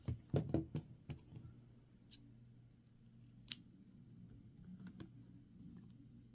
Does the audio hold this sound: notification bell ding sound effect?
no